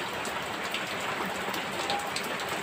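Heavy rain pours in a continuous, dense roar with occasional louder drops striking a surface, close and full, with no talking.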